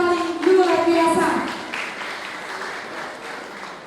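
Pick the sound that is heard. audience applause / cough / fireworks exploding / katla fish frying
audience applause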